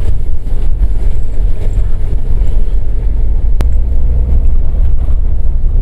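A car works its way slowly along a difficult, dangerous mountain road in Neelum Valley in winter. Its low engine rumble and buffeting wind noise are close and loud, and one sharp click cuts in midway.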